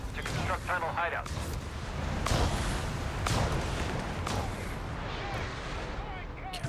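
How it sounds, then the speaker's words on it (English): Land Mattress rocket barrage in Company of Heroes 3 during a 2v2 match, a dense rumbling series of launches and explosions with sharp bursts around the middle, continuous battle noise under game narration. "Barrage on the land mattress."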